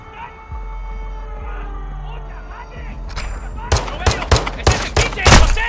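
Gunfire in Call of Duty: Modern Warfare II on PlayStation 5. A low hum and game ambience give way to a rapid series of loud, sharp shots in the second half.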